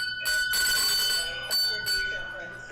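A bell rings on a game show, bright sustained ringing with a couple of short pauses, loud and close, with voices talking around it.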